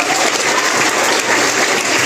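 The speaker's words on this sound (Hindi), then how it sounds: "इस बच्चे के लिए जोर से ताली बजाइए आप लोग।" A crowd at a yoga and healthy-living session claps loudly for a child. The applause is close, dense and continuous through the short stretch, with no talk over it.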